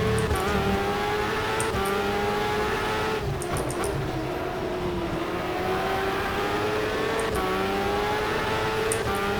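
A race car engine in the Superleague Formula 2009 video game at Donington, holding a loud, steady high-revving drone with rising and falling pitch sweeps and brief gear-change breaks, with no voices.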